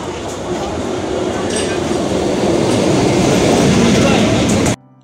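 A local train running between Jaynagar and Mathurapur, heard from onboard as a loud steady rumble and rattle of wheels on rails that builds slightly, then cuts off abruptly.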